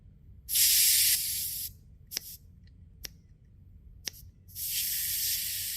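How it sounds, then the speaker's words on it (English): Air hisses out of a Schrader valve as its center is pushed in: two loud bursts of hissing at the start and end, with a few sharp clicks between them, fairly close. "they'll just push the center of the Schrader valve in, which will release the air"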